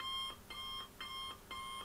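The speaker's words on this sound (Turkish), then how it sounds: "Ses efektlerimiz var. Şöyle alarm sesi." An alarm sound effect from a free sound effects library, playing as a repeating electronic alarm-clock beep in short regular bursts, fairly faint and without other sounds.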